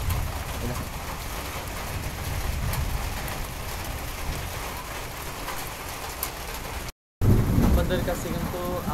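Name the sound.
rain starting to fall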